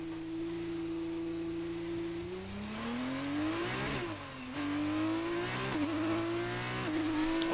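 A Dams F2 race car engine droning on a lap of Abu Dhabi in a racing video game, its pitch climbing through the gears with short drops at each shift, loud and steady throughout.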